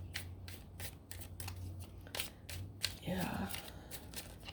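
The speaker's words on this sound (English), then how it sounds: "I do shuffle to get the cards, so it takes a little bit longer sometimes" Tarot cards being shuffled by hand in a series of crisp, repeated riffling strokes, close and fairly quiet, with a brief spoken word near the end.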